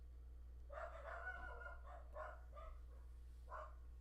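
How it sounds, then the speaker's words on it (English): Several dogs bark in quick, uneven bursts at a moderate distance, the barks clustered in the first half and again near the end over a steady low background hum. "Dogs are going crazy."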